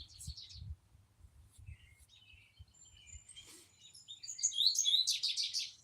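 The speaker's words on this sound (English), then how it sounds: "Oh, goldfinch. See that bright goldfinch?" Bright twittering bird song, consistent with a goldfinch, building to a busy chattering run near the end, heard outdoors over low thumps and handling noise.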